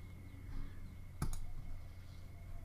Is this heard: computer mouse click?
yes